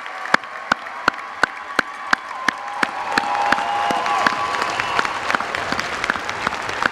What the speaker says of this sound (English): Let's give one more round of applause to the class of